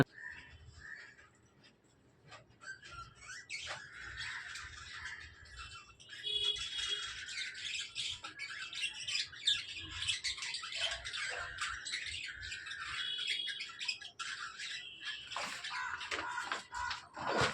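Budgies and a lutino lovebird chirp busily in their cage during cleaning, with steady high twittering from close by that grows denser and louder after the first few seconds, over light background rustling.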